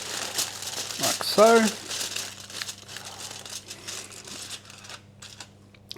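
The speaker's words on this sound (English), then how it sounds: "we're just going to cover it with a bit of foil" Aluminium foil crinkles and rustles as it is pressed over a pepperoni pizza pull-apart, a few close crackling bursts under a voice speaking briefly.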